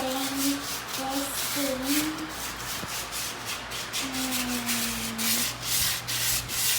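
Sandpaper rubbing a wooden spoon in steady back-and-forth strokes, close and fairly loud, with a voice talking and humming over the scraping.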